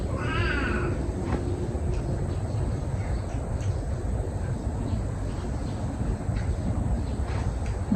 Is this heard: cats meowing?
yes